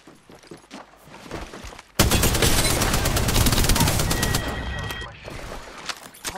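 Dense bursts of automatic gunfire in the battle royale game Apex Legends, loud and close, with a rapid sustained volley dominating most of the clip after a quieter start.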